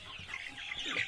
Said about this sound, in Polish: Widzę niestety nadmiar kogutów.